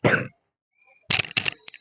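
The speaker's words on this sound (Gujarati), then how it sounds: "ઉધરસ." A cough, brief and near, comes in a quiet pause during a spoken English grammar lesson, followed by short sharp bursts that resemble coughing or throat clearing.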